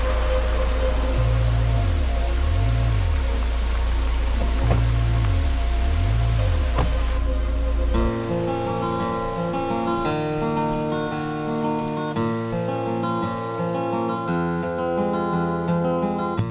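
Steady rain pours at night in a city, a dense hiss of drops on surfaces running throughout, then continuing beneath soft music that takes over midway.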